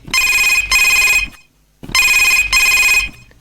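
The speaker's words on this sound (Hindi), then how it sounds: "अब ए दे फोन कहते रहे हो और घंटी बज गए" A telephone rings loudly in two double bursts of electronic trilling, separated by a short silence.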